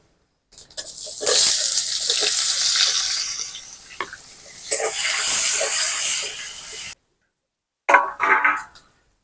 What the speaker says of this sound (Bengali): এখন কুচিয়ে রাখা পেঁয়াজ দিয়ে দেবো